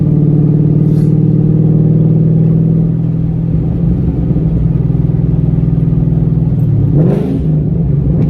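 A 2014 Ford Mustang GT with a cammed 5.0 V8 and aftermarket exhaust idles loud and lumpy, then blips its revs in a rising burst near the end, close and with no talk.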